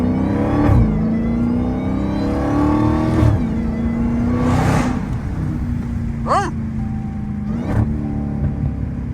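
A Dodge Hellcat revs hard while driving on a freeway, its deep engine note rising and falling through several throttle swells with a brief sharp whine near the end, loud and close from inside the cabin.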